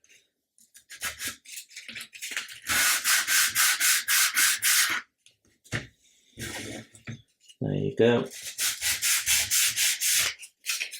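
Bursts of rhythmic scratchy rubbing as sandpaper is worked back and forth over a small model part, in several close passes separated by pauses, with brief speech in between.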